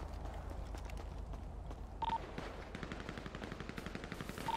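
Rapid automatic gunfire in the online roleplay game GTA RP, steady bursts of shots throughout at a loud level, with brief electronic tones cutting in.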